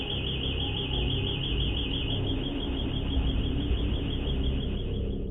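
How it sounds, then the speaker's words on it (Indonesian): A house alarm goes off inside a home, a steady high electronic tone that holds at the same loudness for about five seconds over a constant noisy background. "alarm berbunyi tanpa alasan yang jelas"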